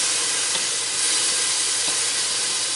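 Soft, steady sizzling hiss of beef for stew searing in a hot pan on a wood stove, with a couple of faint pops, heard close and alone.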